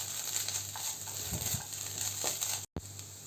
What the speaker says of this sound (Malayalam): ഇനി ഇതും കൂടി ചേർത്തിട്ട് നന്നായിട്ടൊന്ന് ഇളക്കി കൊടുക്കാം